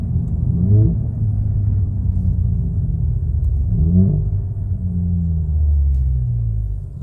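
A Volkswagen car engine revs up briefly twice while downshifting, a loud, close, low rumble that blips and settles back each time.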